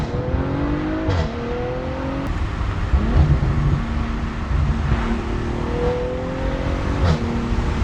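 Audi B9.5 RS5 with a Milltek catback exhaust rumbling steadily while driving, engine note rising and falling with throttle blips and shifts, loud and close throughout.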